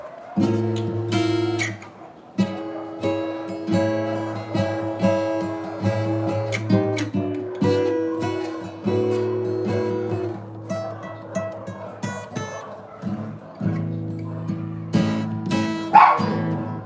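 Several dogs bark repeatedly around a Philippine neighborhood, heard mixed under relaxing music that plays steadily throughout.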